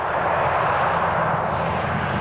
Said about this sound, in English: an American Air Force C-130 landed 22 U.S. Marines into the hellhole that is Sarajevo